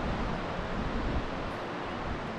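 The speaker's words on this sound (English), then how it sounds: "the wind is a little bit strong, but not as strong as it was yesterday" Steady, strong wind roaring and buffeting across the microphone on the sea cliffs at Yesnaby, Orkney, broadband and constant, with a low rumble like surf far below.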